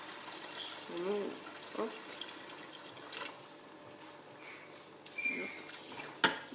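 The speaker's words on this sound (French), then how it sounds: "Donc là, je vais ajouter l'eau." Water is poured into a lamb tajine pot, giving faint splashing and trickling in short bursts, with a brief spoken word and some clinks of cookware.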